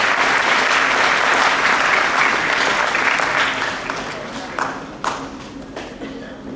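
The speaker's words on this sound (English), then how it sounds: "Please welcome him with a round of applause." Audience applause at a science lecture ceremony, loud and steady for about four seconds before thinning out into scattered claps.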